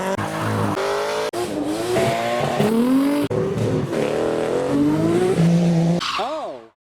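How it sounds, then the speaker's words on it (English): A slammed car does a burnout while leaving a car show, its engine revving hard as the tires squeal in long wavering pitched screeches, loud and close, before cutting off abruptly. "We've begun a burnout."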